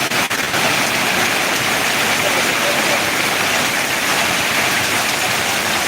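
Steady heavy rainfall in Ariyalur, a constant broadband wash of drops on surfaces, loud and even, with a small knock at the start and no talk.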